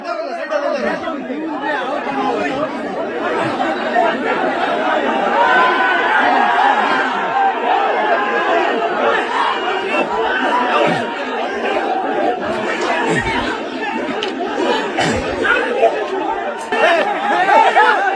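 A dense crowd in Dharmasthala chatters and shouts continuously during a police lathi charge, loud and close, with scattered yells rising out of the din.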